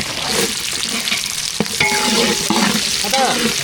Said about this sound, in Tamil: மிளகாய் சேர்த்தாச்சு நல்லா வதக்கி விட்டுக்கலாம் ரெண்டுமே நல்லா வதக்கி விட்டுக்கலாம்